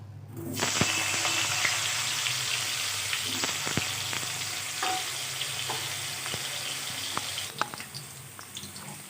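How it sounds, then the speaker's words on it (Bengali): Potatoes fry in white oil with turmeric in a pan, sizzling and crackling steadily, with occasional scraping stirs and small pops throughout. "সাদা তেল দিয়ে প্রথমে আমি আলুটা ভেজে নেব"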